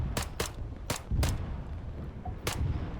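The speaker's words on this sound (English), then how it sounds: "I'm practicing a bit of little sort of long range shots here with the RXO sight" Long-range rifle fire in the video game ARMA 3, aimed through an RXO sight: five sharp, loud gunshots at uneven intervals over a constant low rumble of background ambience, with no voices.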